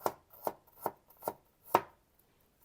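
Young garlic cloves chopped finely with a knife on a board, six evenly spaced thuds, close and clear with silence between.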